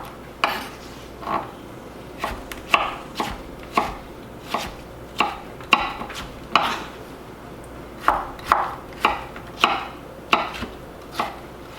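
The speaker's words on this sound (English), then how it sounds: "we're going to go ahead and slice them down again to create these beautiful long strips that we're going to turn into diced cucumbers" A knife cuts cucumber into long strips on a cutting board, giving about twenty crisp, evenly spaced knocks in a steady rhythm, close and clear with no talking.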